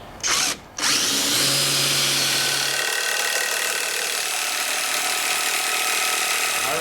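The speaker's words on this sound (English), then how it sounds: "This oak is really, really tough, so we want to make sure that we pre-drill this." A power drill bores pilot holes into tough oak boards, whining steadily and loudly up close for several seconds after a brief first burst and a short pause.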